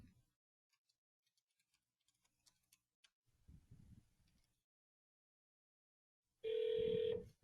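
A test call to an Epygi PBX office number rings through as a single loud telephone ring burst near the end, following quiet clicks and a brief murmur of low talk.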